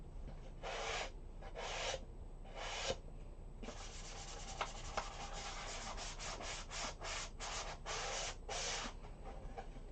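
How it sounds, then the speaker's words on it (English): Hand sanding in short, rhythmic back-and-forth strokes, soft and close, with brief pauses between bursts and no talking. "sanding just a little bit, just because I want to make sure that everything will adhere."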